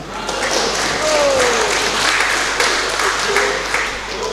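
Audience clapping at a provincial council plenary session in Gorontalo, sustained applause filling the hall, with a voice speaking over it through the PA.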